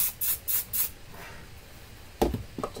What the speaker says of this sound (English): It seemed like I put more on there than I actually did because it's barely spraying anything out.